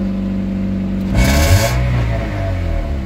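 An idling Toyota Vios Limo engine is briefly revved once, the roar rising for about half a second before settling back to a steady idle.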